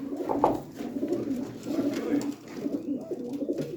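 Pigeons coo in low, soft, repeated murmurs that roll on steadily, close by, with light rustling in the background.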